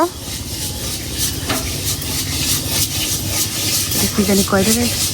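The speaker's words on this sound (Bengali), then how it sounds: "টিনটার মধ্যে বালু আর চাল একসাথে করে লড়াচড়া করে" Rice being stirred together with hot sand in a tin to puff it, a loud continuous scraping and rattling with a sizzling hiss. A few short voices rise near the end over the stirring.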